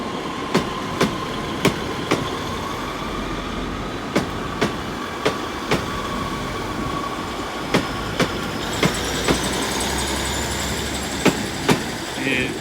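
Great Western Railway Class 802 unit departing Exeter St Davids station, a steady diesel engine drone with a regular clickety-clack of wheels over rail joints and a rising whine as it pulls away.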